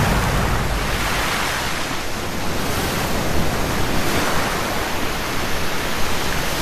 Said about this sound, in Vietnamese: Sóng biển KGB đập và nghiền các dạn san hô đã hóa đá.